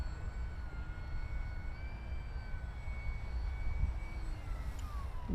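An FMS Edge 540 radio-controlled model plane's engine whines steadily overhead on a low inverted pass, a thin high-pitched drone with shifting pitch as it passes, sustained and moderately distant.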